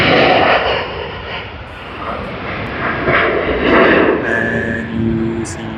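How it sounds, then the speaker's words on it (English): A United Boeing 787-9 Dreamliner jet airliner rumbles past at Sydney Airport, a loud, broad engine roar that rises and falls over several seconds with a faint whine. "Let's have a look at United UA 100 Sydney to Houston on the Boeing 787-9 Dreamliner."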